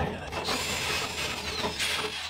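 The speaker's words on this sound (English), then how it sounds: "Got my holes marked. Good drill." A power drill whirs continuously close by, its pitch wavering as it bites in and rising into a sharper whine near the end.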